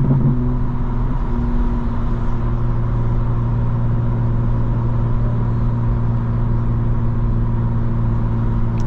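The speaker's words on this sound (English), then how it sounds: "I can hear a VQ, probably an Infiniti Q50 in front of us with the naturally aspirated V6 and trumpet exhaust." A car engine drones steadily nearby, heard from inside another car while following what may be an Infiniti Q50 with a naturally aspirated VQ V6 and trumpet exhaust; a constant low rumble with a tonal hum and no talk.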